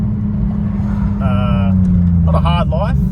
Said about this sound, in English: we're just doing a quick pull on the freeway because this car's been on the channel for a while